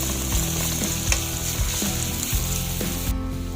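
Onion browns in a hot pan as the first ingredient of a Filipino ginataang kalabasa at sitaw dish, giving a steady close sizzle broken by soft stirring scrapes every half second or so.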